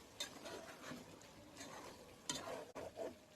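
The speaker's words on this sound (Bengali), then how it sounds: "ঢাকনা উল্টিয়ে আর একটু নেড়ে দিব।" Chicken biryani being stirred in a pot, soft scraping and a few light clinks of a utensil against metal under a faint sizzle, quiet and close with no talk.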